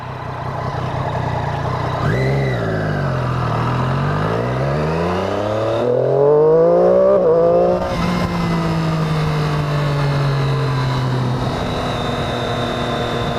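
A Triumph 675R three-cylinder motorcycle engine with a stock exhaust and bimodal flapper valve revs up and down as the bike rides past, its pitch climbing and falling, then holding a steady drone; no voices.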